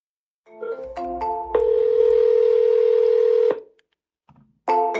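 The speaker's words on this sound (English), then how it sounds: "as soon as the phone started ringing" A telephone call being placed: a few short dialing tones, then a long steady tone lasting about two seconds, a pause, and another tone starting, loud and close with no talking.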